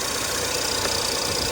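A Ford EcoBoost turbocharged engine idles steadily, a close, continuous hum and hiss with faint rhythmic knocking and no talking.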